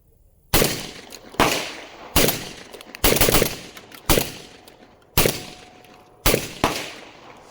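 A Beretta 1301 tactical shotgun fires Winchester shells at 1200 feet per second, giving eight sharp, loud reports at irregular intervals, each with a short decay and two shots nearly back to back.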